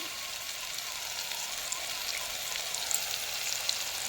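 Spice paste sautés in a hot pan with a steady, even sizzle and scattered tiny pops, close up and moderately loud, with no talking.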